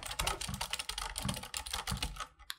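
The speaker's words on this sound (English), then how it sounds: "They are clicky, they sound clicky, they feel clicky" Fast clicky typing on a Keychron K3 ultra-slim optical mechanical keyboard, a dense run of sharp close keystrokes that stops abruptly at the end.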